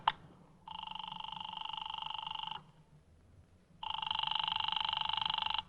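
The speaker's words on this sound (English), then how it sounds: "Oh, Walt, do you mind if I use your phone?" An old telephone in a radio drama, a dial click followed by two long buzzing rings separated by a pause, no voices.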